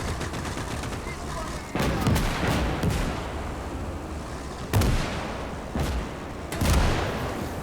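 Machine gun fire rattles through a World War II battle in the Gates of Hell strategy game, Finland campaign. Loud bursts of rapid shots come in several clusters over a steady rumbling din, with a few heavier booms among them.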